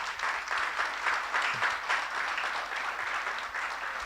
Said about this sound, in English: Ladies and gentlemen, if you may, a round of applause.